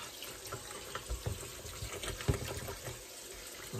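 Cold tap water runs steadily into a sink, a continuous splashing wash with a few louder spatters, close by and with no voices.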